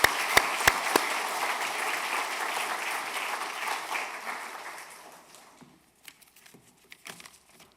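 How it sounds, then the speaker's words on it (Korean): A church congregation applauds an infant baptism, a sustained burst of clapping from a full room that fades out over several seconds, leaving a few scattered claps and small noises. "큰 박수로 축복해 주시기 바랍니다"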